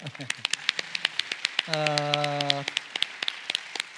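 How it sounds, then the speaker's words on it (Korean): Scattered hand claps ring out in a brief burst of applause at a conference talk, interrupted midway by a short sustained tone, with a voice briefly audible at the start. "큰 박수 한번 드릴까요"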